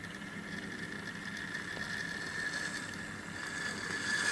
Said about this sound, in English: That's kind of scraping noise you can hear.